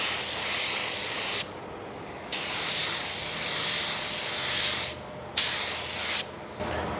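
An LVLP spray gun lays an automotive paint coat in several hissing bursts, each a few seconds long with brief pauses between passes, close and loud.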